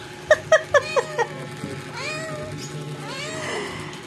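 A pet cat gives five quick, close meows in a row, then a few longer, drawn-out cries follow over quiet room noise.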